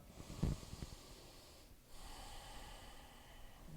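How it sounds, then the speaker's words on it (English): Slow, deep breathing during a seated chair yoga session, a sharp nasal inhale early on followed by a long, quiet, airy exhale, close and soft with no talking. "Deep breath in and out."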